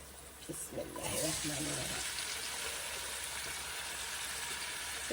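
Onions and green chillies frying in a pan give a loud, continuous sizzle that swells after a short stretch of talk at the start and then carries on alone.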